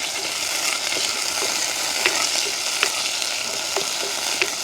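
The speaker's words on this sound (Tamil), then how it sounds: "எண்ணெய் நல்லா கொதிச்சிட்டேன் இப்படியே நல்ல வடிவாக பிரட்டி விடுவேன்" Onions and green chillies stirred in sizzling hot oil for a village-style seafood dish, a steady bright sizzle with soft scraping stir strokes recurring every second or so, close and alone.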